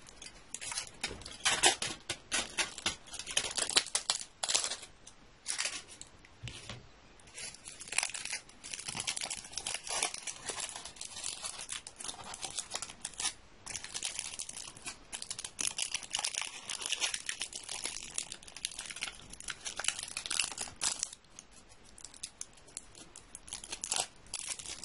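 A leaf being cut for leaf art, with close, crisp snipping and crinkling sounds in irregular bursts and nobody speaking.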